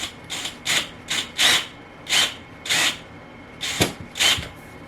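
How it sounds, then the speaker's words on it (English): Power drill driving a screw into a wall stud, heard as about eight short bursts of whirring in an uneven rhythm, each separated by a brief pause, close and fairly loud with no talking. "this will screw right into the stud, so let me go get the drill."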